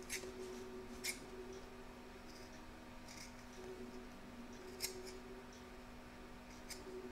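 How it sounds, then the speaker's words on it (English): Small scissors snip fabric applique close to a stitch line, several faint, sharp, spaced clicks over a quiet low hum. "we're going to cut it as close to the stitch line as possible"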